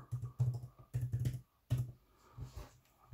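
Keys clatter in short bursts on an external keyboard paired with a Samsung Galaxy Tab S6, with a few loud clusters of taps separated by brief pauses, close and fairly clear.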